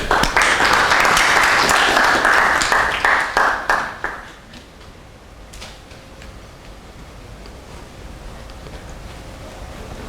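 An audience claps in unison, loud and close, for about four seconds; the claps then thin into a few scattered final strikes before dying away into quiet room tone.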